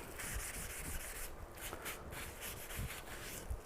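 Sandpaper rubs across a handmade wooden cutting board in quiet, rhythmic back-and-forth strokes, a soft scratchy texture with brief pauses and no talking.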